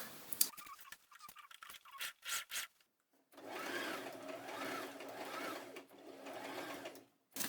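Sewing machine stitching the crotch seam of elastic-waist shorts: a few short stop-start bursts of needle chatter, then one sustained run of rapid mechanical whirring lasting about four seconds, close and clear.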